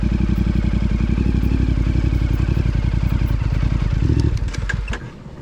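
A 450MT motorcycle engine runs with a steady close thumping beat on a steep off-road descent, then stalls and dies out about four seconds in, leaving a few clicks and clatters behind.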